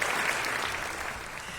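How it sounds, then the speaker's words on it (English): A brief burst of crowd applause plays as a sound effect, dense and steady clapping that fades slightly over a second and a half. "The crowd goes wild."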